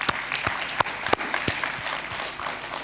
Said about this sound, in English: I think you need to give yourselves a round of applause as well